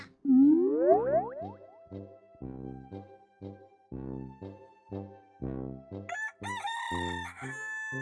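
A rooster crows loudly and close, in one long rising call, followed by a bouncy cartoon-style boing rhythm and some bright chiming tones.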